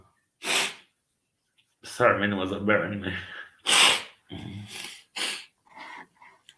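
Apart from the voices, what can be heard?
sneezing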